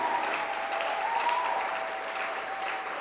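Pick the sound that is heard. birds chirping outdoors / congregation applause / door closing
congregation applause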